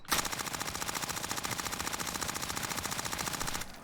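Sustained rapid automatic fire from an MP5 submachine gun in a video game, a dense unbroken burst lasting several seconds at steady loudness before cutting off abruptly.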